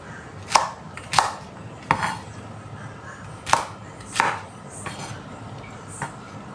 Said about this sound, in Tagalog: Ngayon, hiwain naman natin ang ating okra.